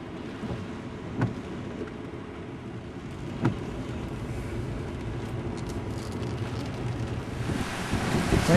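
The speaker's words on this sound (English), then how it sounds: "watched the wind and waves and birds down there." Strong storm wind and ocean waves at the South Jetty in Florence, Oregon, a constant low roar of gusts buffeting the microphone with surf rumbling beneath, swelling louder toward the end.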